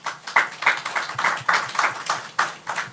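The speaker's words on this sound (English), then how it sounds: "Applause for them, please." An audience at an evening panel forum in Saint Lucia claps for a few seconds, a small gathering whose individual hand claps land in clear, uneven bursts rather than a dense roar.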